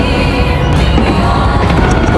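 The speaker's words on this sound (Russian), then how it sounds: "мы уже собрались, ждем сейчас салют" New Year fireworks burst over the Burj Khalifa in Dubai, a loud, dense, continuous roar of booming explosions blended with the noise of a large crowd, with no clear gaps between the bangs.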